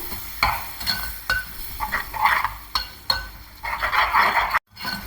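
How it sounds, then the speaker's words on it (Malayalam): A spoon scrapes and clinks around a pan as yogurt chili curry (dahi mirch) simmers with a soft sizzle, in uneven strokes close by. "അത് ഒന്ന് വറ്റുന്ന വരെ ഇളക്കി കൊടുക്കണം"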